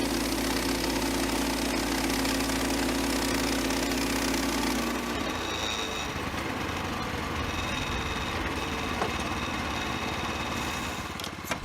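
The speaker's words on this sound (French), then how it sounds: "Une simple action permet de relâcher le freinage intégré, d'activer le moteur et d'engager l'embrayage." Norwood LumberMan MN27 portable sawmill engine running steadily, a loud continuous drone with a strong low hum that changes character partway through, then carries on with mechanical rattle and vibration to the end.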